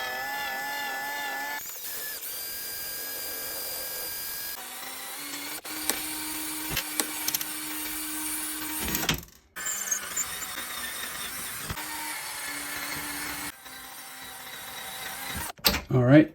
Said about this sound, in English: I'm going to go ahead and drill these 3 rivets there